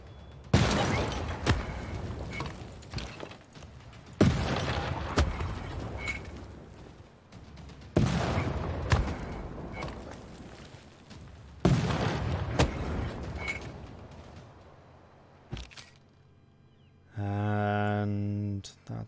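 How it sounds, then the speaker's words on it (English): Artillery bombards a target in Civilization VI: four heavy booming volleys roughly four seconds apart, each followed by crackling and rumbling debris, then a brief tonal game chime at the end. "let's continue the bombardment"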